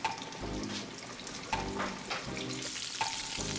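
Coated chicken sizzles and crackles steadily in hot vegetable oil heated to 350 degrees, a continuous close frying hiss with small bubbling pops throughout.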